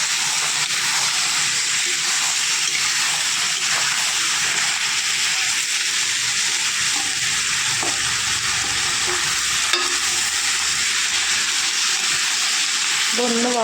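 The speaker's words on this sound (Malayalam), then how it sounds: "നമ്മൾ കഴുകി വാർന്ന് വെച്ച വെളുത്തുള്ളി ഇട്ട് കൊടുക്കുകയാണ്." Washed garlic sizzles in hot oil in a pan for pickle, a steady close hiss of frying with occasional stirring scrapes and brief spoken words.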